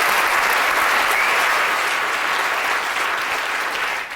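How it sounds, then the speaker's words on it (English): A lecture-theatre audience at a science Christmas lecture applauds a professor, giving dense, even clapping that holds steady and loud throughout and fades only slightly at the very end. "I think we need to give a big round of applause to Professor Eric Hayes."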